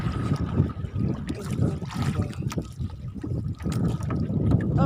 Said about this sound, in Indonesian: Oh, besar sekali ombak.